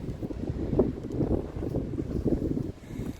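Breeze gusts along the Lake Superior coast, a steady low rumbling rush of wind buffeting close against the microphone without pause.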